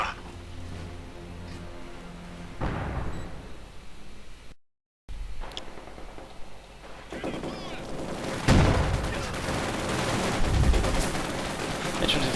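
Gunfire in a World War II strategy game battle as Panzer Grenadiers assault conscript infantry, with scattered shots and bursts of fire and explosions rising in density and loudness toward the end.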